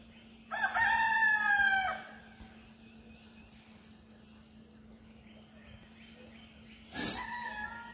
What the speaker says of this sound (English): And the roosters are picking up.